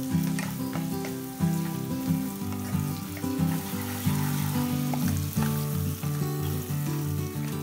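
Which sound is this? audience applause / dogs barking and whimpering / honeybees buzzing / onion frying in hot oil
onion frying in hot oil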